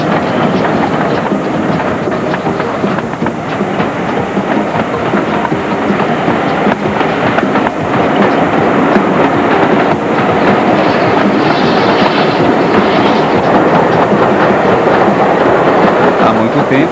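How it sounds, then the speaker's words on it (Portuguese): A train on the English Riviera rumbles steadily along the rails with a continuous clatter, loud and close throughout, with no talking. "Quando o trem desce para a Bahia"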